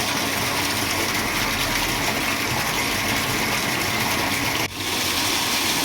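A 1 HP self-priming pump with a cast iron body pushes water under pressure through a 3/4 inch delivery, making a steady, loud rushing gush with a constant mechanical hum and one brief dip near the end.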